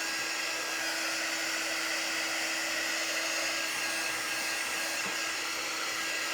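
Hair dryer blowing on a freshly painted surface, a steady loud whooshing hum running unbroken throughout.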